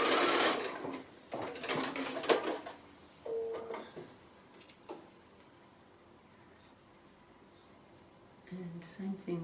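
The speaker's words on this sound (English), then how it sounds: "I'm just keeping a nice 1/4 inch seam." Sewing machine stitching a quarter-inch seam on quilt pieces: a quick run of rapid mechanical stitching at the start, then quieter pauses with small clicks and handling noises, close and fairly soft, while someone talks.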